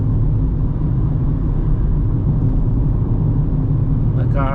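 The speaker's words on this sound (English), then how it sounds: "you can see that the car can accelerate. Now we're uphill, 4th gear, 80 kilometers" A 2025 Kia Picanto with its 1.0 engine pulls uphill in fourth gear at about 80 km/h, a steady low drone and road rumble filling the cabin throughout, with a faint brief chirp near the end.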